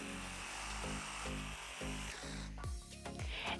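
A power saw cuts through scrap wood in a loud, close whine. Its pitch steps down as the blade bites into the board, rises again as it frees, and the cut ends in a short burst of rattling.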